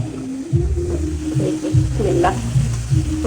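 Pangas fish pieces hit hot oil in a frying pan, setting off a loud, steady sizzle with repeated crackling bursts as each piece goes in, close and continuous.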